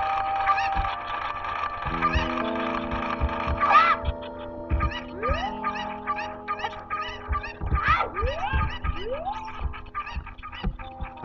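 Cucco chickens in Zelda Ocarina of Time cluck and squawk in repeated bursts over game music, with rising swoops and busy overlapping calls throughout.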